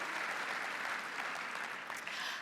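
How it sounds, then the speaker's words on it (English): A large summit audience applauds steadily, a dense continuous wash of clapping from a big crowd at a Christians United for Israel gathering. "start applauding this morning."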